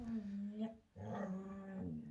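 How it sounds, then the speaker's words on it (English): A dog whimpers and growls in short, voiced bursts with a brief pause, fairly close in a room where a podcast is being recorded. "I heard the dog."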